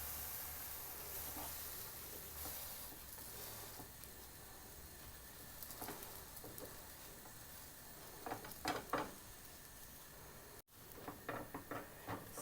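A sandwich heating on a non-stick pan gives a low, steady sizzle, with a few soft scraping and turning sounds toward the end.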